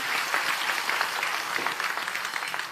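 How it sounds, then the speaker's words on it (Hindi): A crowd at a Jan Suraaj political rally in Patna claps for the movement's leader, producing a steady wash of applause heard from a distance. "एक बार जोरदार ताली बजाइए"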